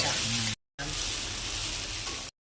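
Onion and tomato sizzle loudly in hot oil in a pan while a fish curry is cooked, a steady bright frying hiss that breaks off briefly and then resumes.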